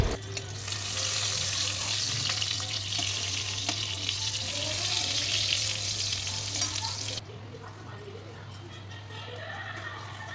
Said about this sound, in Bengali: বেগুন ভাজা করে নিলাম